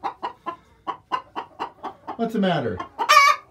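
A rooster with an eye injured in a fight clucks in a quick run of short, sharp calls, then lets out a longer strained squawk. A person speaks briefly.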